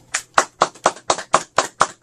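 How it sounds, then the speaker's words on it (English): Slow, steady clapping of hands in a hospital radiology promo setting, about nine crisp, evenly spaced claps, close and clear with nothing else around them. "He'll leave the applause in there for the user."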